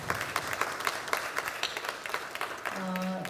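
Applause at a Korean political party meeting for budget committee leaders: scattered, fairly quiet hand claps from a modest group, tapering off as a voice begins at the end.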